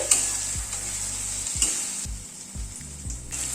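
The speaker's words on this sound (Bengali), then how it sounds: "মশলাটা আরো 2 মিনিট কষিয়ে নিলাম।" A masala spice paste sautes in oil for chole, frying with a constant close sizzle while a spoon stirs it in a series of soft scraping strokes, with no voices.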